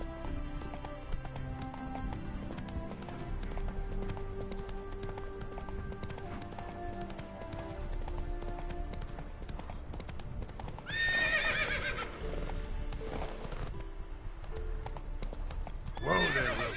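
Roach, a horse in the Witcher 3 video game, gallops with steady rhythmic hoofbeats throughout, then lets out two loud neighs near the end, close and clear over game ambience.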